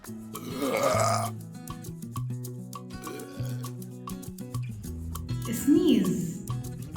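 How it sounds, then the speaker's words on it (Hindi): Two loud, drawn-out human belches, one near the start and one near the end, sound over soft background music. "बर्प इसका मीनिंग है डकार. इसको हम बेल्च भी कहते हैं."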